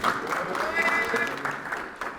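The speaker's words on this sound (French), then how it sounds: "applaudissez-le s'il vous plaît" An audience applauds as the next participant steps forward on a dating game show, with clapping running under overlapping chatter and voices throughout.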